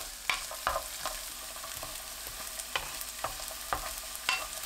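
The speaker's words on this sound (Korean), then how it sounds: "팬에 식용유 3큰술, 마늘 넣고 중불로 1분 30초 볶습니다." Garlic sizzling in three tablespoons of cooking oil in a pan over medium heat, a steady soft frying hiss broken by sharp clicks and scrapes of stirring, close and alone with no talking.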